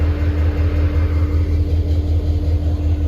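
A diesel train engine rumbles steadily and loudly at close range, a continuous low drone with a faint hum above it and no voices.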